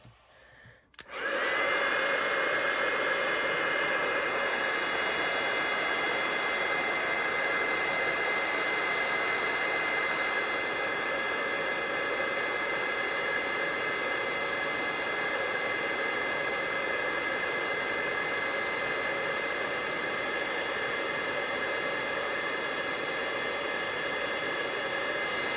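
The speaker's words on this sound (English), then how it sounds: "Let me just grab my heat tool. And we'll heat this up." A handheld craft heat tool switches on and blows hot air in a steady, loud, close whoosh that runs unbroken for many seconds, with no talking over it.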